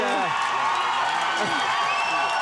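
A dense crowd roars and cheers throughout at the announcement of the 1995 Quebec referendum results, with a reporter's voice speaking over the steady wall of noise.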